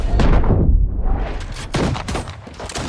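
Rapid bursts of pistol fire from the Headhunter sidearm in a Valorant scrimmage, several sharp cracks in quick succession over a dense, loud background of in-game action.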